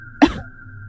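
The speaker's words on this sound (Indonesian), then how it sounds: "Sang ibu sesekali batuk." A woman gives a single short cough in an audio drama sound effect, close and fairly loud over a faint steady hum, then the background continues quietly.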